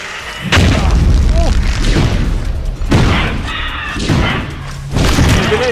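Grenades blow up in the video game Apocryph with several heavy, close booms and thuds at irregular intervals, each followed by a rumbling tail.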